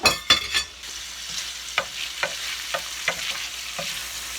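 Chicken frying in a pan of butter and olive oil gives a steady soft sizzle, with a few sharp utensil clacks at the start and a regular series of stirring scrapes and taps throughout.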